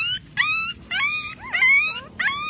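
A rescued puppy, found buried alive, whimpers and whines in close, high, repeated cries, several short wavering yelps in a row.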